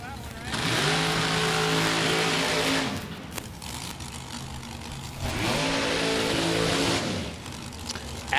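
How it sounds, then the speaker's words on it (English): Ford Mustang race car at a drag strip time trial, two loud full-throttle runs with rising engine harmonics, each pulling hard for a couple of seconds before cutting off, with background talk in between. "Another Mustang."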